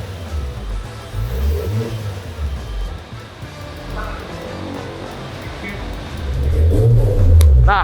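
A drift car's engine, just started after repairs, runs with a low rumbling idle that swells into a louder rev near the end, close by, with a voice talking over it.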